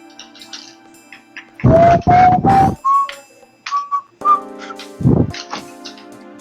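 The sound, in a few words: whistling wind in a video game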